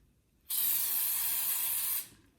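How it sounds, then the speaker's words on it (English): A single loud, steady hiss from a can of baking spray coating a bread pan lasts about a second and a half, starting and stopping abruptly in an otherwise quiet room. "I have a baking spray for it"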